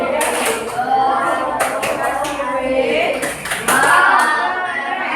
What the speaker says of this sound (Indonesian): Kasih tepuk wow